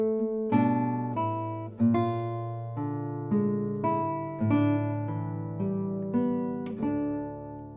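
A classical guitar plays a passage from Torija by Federico Moreno Torroba, a steady run of plucked notes and chords ringing close and clear, with no talking.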